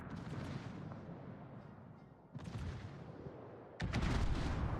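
Torpedo hit on a warship in World of Warships: a series of deep, booming explosions, one after another, with the final blast loudest and the low rumble rolling on between impacts.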